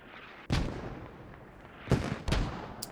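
Mortar rounds land in a competitive squad shooter match, three sharp heavy blasts spaced over a few seconds with quieter rumbling between them.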